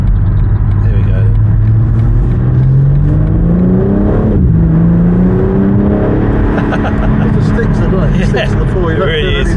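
A 2024 BMW M4 Competition Convertible with xDrive accelerates hard, its engine note climbing steadily in pitch through a gear change, loud and continuous with wind rush, while a voice talks over it.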